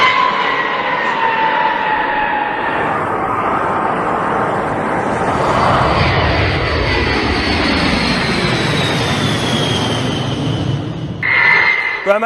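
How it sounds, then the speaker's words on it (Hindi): B-52 bomber aircraft landing at an airbase in Britain: a loud, continuous, rumbling jet engine roar that holds steady throughout with shifting whine, alone without talk. "तो अमेरिका ने B-52 उतार दिए हैं।"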